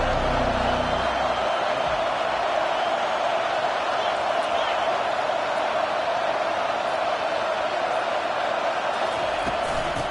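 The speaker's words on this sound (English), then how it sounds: "This crowd trying to show them what it's going to be like all day in this house." Stadium crowd in a football video game: a steady, dense roar of many voices that holds evenly throughout, with faint commentary-like talk mixed in beneath.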